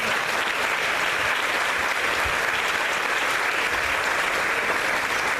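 A church congregation claps steadily in applause, a dense continuous wash of hands filling the room for several seconds with no voices over it.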